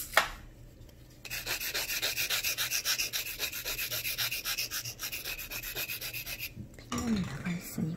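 A nail file shaping the edge of a fingernail makes a rapid, steady rasping of back-and-forth strokes up close for several seconds. It starts after a quiet moment and ends with a brief shuffle.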